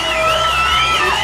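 A home crowd at a baseball game roars and whoops after a hit, a dense, loud wall of cheering and yelling that holds steady across the moment.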